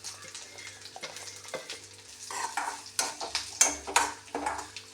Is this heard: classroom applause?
no